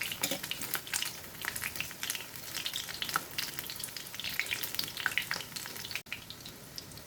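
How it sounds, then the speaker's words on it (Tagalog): Bangus fish lumpia shanghai deep-fry in hot oil, a continuous bubbling crackle with scattered sharper pops and a faint utensil clink near the end, heard close and without talk. "para masarap yung pagkaluto ng Shanghai nyo, i-deep fry nyo yan mga lodi."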